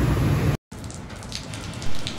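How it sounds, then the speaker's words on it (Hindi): Morning rain falls steadily during a stop on a road trip toward Naran and Kaghan, a soft hiss of drops that cuts out briefly before resuming. "सुबह होते ही शुरू हो गई बारिश"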